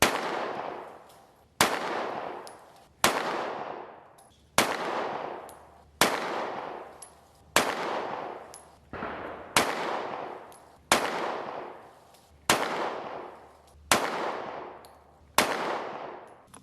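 Twelve loud, sharp gunshots from a Smith & Wesson CSX 9mm pistol fired at an outdoor range, evenly spaced about 1.3 seconds apart, each crack decaying briefly before the next.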